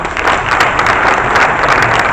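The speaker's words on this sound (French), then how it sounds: "Applaudissez pour le directeur." Audience at a graduation ceremony applauding for the director, loud dense clapping filling the hall without a break, close and sustained.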